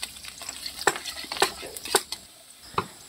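Garlic dropped into hot, bubbling oil while cooking bamboo shoot sisig, a close crackling sizzle punctuated by sharp scraping strokes of a utensil against the pan.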